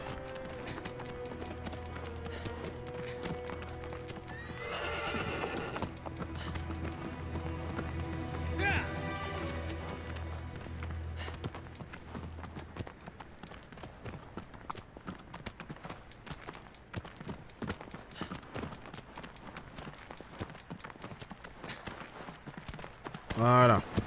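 A horse gallops in the Shadow of the Colossus video game, with steady, fast hoofbeats running continuously under voices and ambient game sound.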